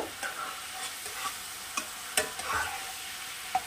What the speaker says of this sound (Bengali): আলু দিয়ে আমি কিছুক্ষণ নাড়াচাড়া করব।